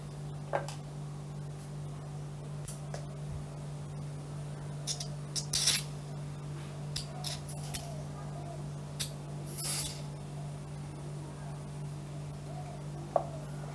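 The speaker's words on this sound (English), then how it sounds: "I'm going to spray some WD-40 actually down my cable housing" Short hissing bursts of WD-40 spray into a bicycle's cable housing, a few separate sprays over a steady low hum, with small clicks and taps in between.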